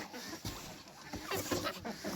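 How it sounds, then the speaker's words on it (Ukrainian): A rooster in a backyard poultry shed gives soft, low clucks at close range, quiet and scattered over a faint background. "Цей красивий півник."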